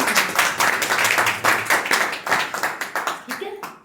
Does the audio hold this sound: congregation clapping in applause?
yes